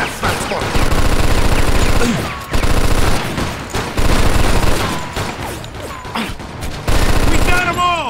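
Long bursts of rapid machine-gun fire in Mafia 2 during a shootout at a window, loud and repeated with short gaps between volleys, mechanical clatter in between, with someone shouting over it.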